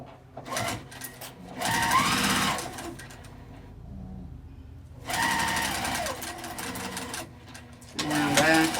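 A sewing machine runs in two bursts of back stitching on a makeup zipper bag, rapid needle chatter alternating with quieter pauses while someone speaks between runs.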